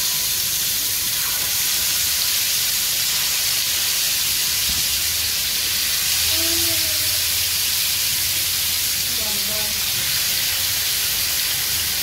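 Chicken tandoori sizzles and hisses in hot butter and oil over a high gas flame, a steady bright frying hiss throughout with faint clatter of the pan, no talking.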